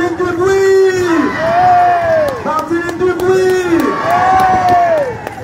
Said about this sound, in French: Je vous demande d'applaudir Axel Carnier.